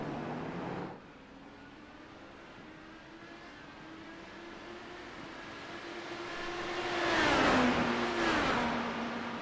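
Race cars at the Long Beach Grand Prix lapping through the hairpin, one engine note droning steadily at a distance before a louder car rises and sweeps past near the end.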